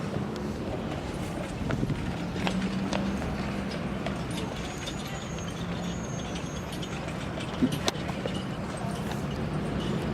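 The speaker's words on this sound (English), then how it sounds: "These horse rides are everywhere." Hooves of a horse pulling a carriage clip-clop steadily on a street in Georgia, at a moderate distance under a constant wash of outdoor street noise, with no talking.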